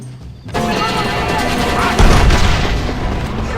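A cannon fires during a fort battle in Red Dead Redemption, with a loud deep boom and crashing impact, then a second heavier blast rolling out over continuing gunfire and din.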